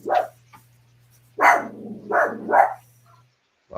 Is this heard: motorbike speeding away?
no